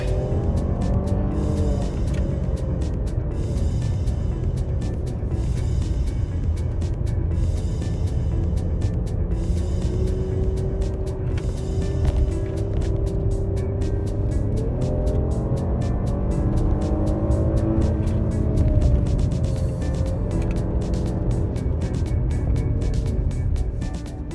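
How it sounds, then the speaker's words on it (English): A Holden Commodore RS-V on a road test, its engine droning steadily and rising in pitch as it pulls out of corners in lower gears, heard from inside the car with constant road noise. "Lower down gears certainly give you some acceleration off these corners."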